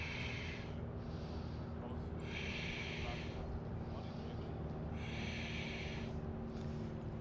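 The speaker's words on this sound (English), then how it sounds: "Ujjayi breath if you can." Ujjayi yoga breathing during a flow sequence, slow audible breaths drawn through a constricted throat, about four hissing swells at roughly two-second intervals over a low steady background hum.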